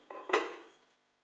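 A pizza set into a hot pan and the lid closed, giving two quick metallic clanks of cookware that ring briefly and fade into quiet, close and fairly soft.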